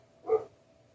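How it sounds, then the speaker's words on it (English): A single short dog bark, fairly muffled and a little distant, rising out of a quiet room and quickly fading. "Sorry guys, my dogs are barking."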